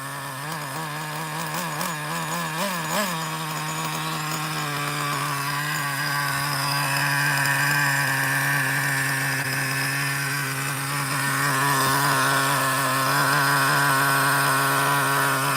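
A nitro engine running on roughly 12% oil fuel with aluminum rockers, loud and steady with a strong harmonic drone, settling from a few slight revs at the start into an even idle, with no talk over it.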